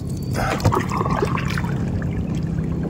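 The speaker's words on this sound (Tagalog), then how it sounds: "Malakas na agad ang agos." A strong river current rushes and gurgles close by, a steady broadband wash of flowing water with no voices.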